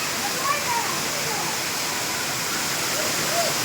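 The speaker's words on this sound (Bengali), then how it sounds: "আর সুন্দর একটা ঝর্ণা আছে এখানে এই যে" A small decorative waterfall fountain in Agni Kanya Water Park, Bongaon, gives a steady, even rush of splashing water throughout, with faint voices now and then beneath it.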